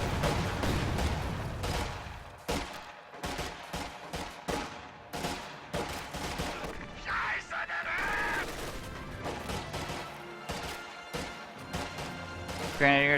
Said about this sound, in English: One of our fighting positions is sustaining fire.